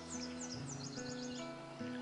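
Birds sing at dawn along a small creek, quick repeated chirping phrases from a few birds at moderate distance, with a steady low hum beneath them.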